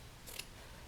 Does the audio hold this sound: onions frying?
no